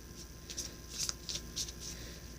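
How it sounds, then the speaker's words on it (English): A deck of cards being shuffled in several quick riffling bursts, soft and close, over a quiet background. "Alright, one last shuffle."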